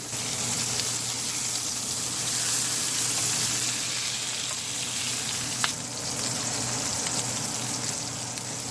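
Butter melts onto a seared fresh prime ribeye steak, giving a loud, dense, steady sizzle close up, like heavy rain, with one small sharp crackle partway through.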